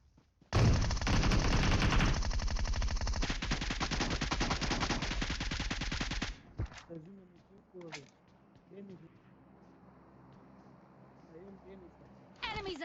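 Sustained rapid automatic gunfire in the PUBG video game on the Erangel map, loud and continuous for several seconds, followed by a few scattered shots and game sounds.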